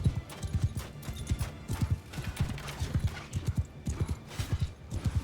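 Horses gallop in a Mount & Blade II Bannerlord battle, with steady clip-clop hoofbeats in rapid overlapping rhythm and an occasional whinny, close and fairly loud with no voices.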